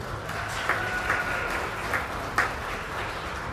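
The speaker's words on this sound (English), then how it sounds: "So give her a big round of applause." Applause at a county fair sheep show for a young beginner showmanship winner, a steady wash of clapping across the whole stretch with a few sharper claps standing out.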